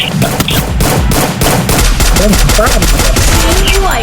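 Gunfire in the mobile shooter Free Fire, loud sustained bursts of rapid shots rattling continuously, with game effects and faint voices layered underneath.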